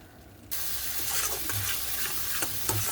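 Spices frying and being stirred in oil in a pan, a steady sizzle with scraping stirs starting abruptly after a brief quiet lead-in, close and continuous.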